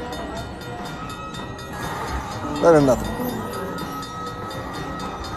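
Train sound effect from a casino slot machine on a gaming floor, a short rising whistle-like tone near the middle over steady casino hubbub, with a person talking.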